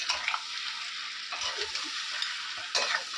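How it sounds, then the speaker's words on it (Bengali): Potatoes for a mutton curry being stir-fried in a pan, a steady close sizzle with occasional spatula scrapes and knocks, with no talking. "তো আর একটু কষানো হবে আলুগুলো এখন দিয়ে দেবো"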